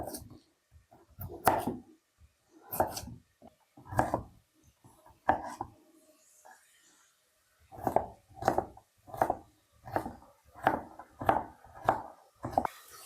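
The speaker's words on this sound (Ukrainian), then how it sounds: "Тепер морквочка так само кубиком нарізаємо." A knife chops carrot into cubes on a board, a series of crisp, close thuds in irregular bursts, pausing midway and then resuming in a quicker, even rhythm.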